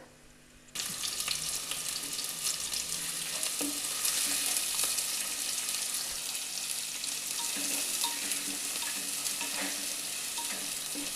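Onions sautéing in hot oil with mustard seeds and fenugreek for a fish curry, a loud continuous sizzle starting abruptly after a quiet moment, with occasional spoon scrapes and stirring clatter, no voices.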